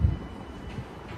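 Low, rumbling ambience inside a train station in Bournemouth: a brief, steady hum opens with a heavier thump, and no one speaks.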